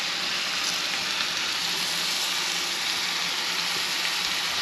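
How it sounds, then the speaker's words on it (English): Cajun-seasoned trout sizzles loudly in a skillet over a creekside camp fire, a dense, steady hiss of frying oil close up with no voices. "Now we can throw this thing into the skillet."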